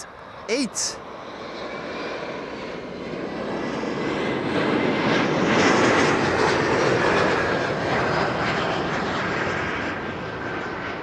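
KLM flight 1070 arriving from Southampton at Amsterdam Schiphol: a jet's broad engine roar builds steadily, peaks near mid-clip and eases off as the plane passes, with a brief chirp near the start.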